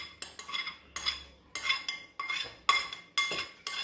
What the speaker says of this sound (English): You might need to get a spoon, Sebastian, and just scoop out the rest.